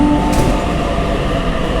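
A Sydney train rumbles at a station platform in warm weather, a loud continuous low roar of wheels and motors with a faint squeal near the start.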